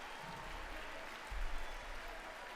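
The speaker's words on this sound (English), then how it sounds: "so even if he's not coherent and he doesn't make a point, they just clap anyway." Audience applause at a State of the Union address, a steady faint wash of clapping that swells briefly midway before settling back.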